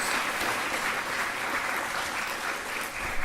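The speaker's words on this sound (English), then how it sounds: "Let's give these folks a tremendous round of applause." A graduation ceremony crowd at a weekend college breaks into loud, continuous applause for the program staff, a thick, even wash of clapping from many hands.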